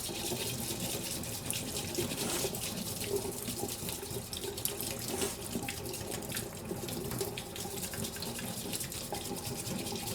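Warm water pours steadily from a tap, a constant hissing splash that stays even and fairly quiet for the whole stretch, with no speech.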